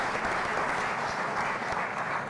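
An audience at a Black Male Development Symposium barbershop-talk session gives a sustained round of applause, with steady clapping filling the room at a moderate, even level throughout.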